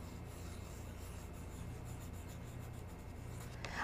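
A pen scratches across a card during hand lettering, a continuous close, soft rasping scrape with a small bump at the end, heard alone.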